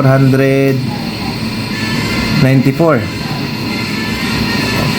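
An electric clothes dryer runs with its heater on, giving a steady close mechanical hum and whir throughout, with people talking over it at the start and again near the middle.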